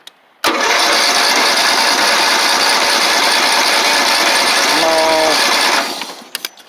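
A tractor engine cold-starts with the choke on. It catches abruptly and roars loud and steady for about five seconds, then cuts out, leaving a few faint knocks.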